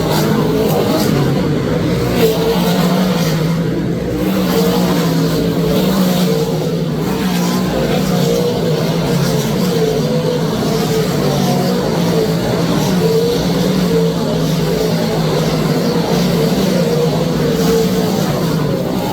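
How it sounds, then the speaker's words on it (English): Big-block modified race cars roaring around the track at the Eastern States 200, a continuous loud wall of engine noise with crowd murmur underneath, sustained throughout. "Just listen to that big, big block horsepower."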